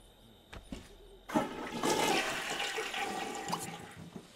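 A toilet flushes in The Sims 2 video game, opening with a sudden gush of rushing water that swirls loudly for several seconds after a few faint clicks, with no voices.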